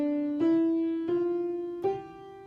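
Four separate piano notes, played one after another in C position, step upward in pitch, each struck clearly with a soft attack and left to ring quietly without any talk.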